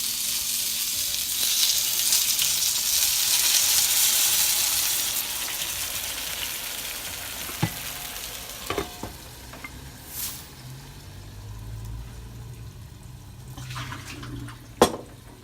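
Gyoza frying in a hot pan, a loud broad sizzle that fades gradually over time, broken by a few sharp clinks and taps of a utensil or lid near the end.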